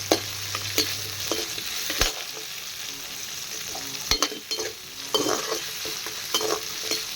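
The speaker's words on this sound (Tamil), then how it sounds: "இப்போ வெங்காயம் வதங்கிறதுக்கு கொஞ்சம் உப்பு போட்டுக்கணும்" Sliced onion with a pinch of salt sautéing in a pan for a bottle gourd chutney, a steady soft sizzle broken by scraping stirs and a few sharper knocks of the spatula, close and unvoiced.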